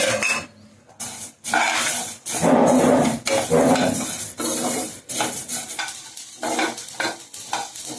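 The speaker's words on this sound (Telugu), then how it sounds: "ఇదిగోండి జీలకర్ర ధనియాలు చక్కగా వేగుతూ ఉన్నాయి" Cumin and coriander seeds dry-roasting in a pan while being stirred, a steady dry rattling and scraping with metallic knocks of utensil on pan, close and fairly loud with no voice.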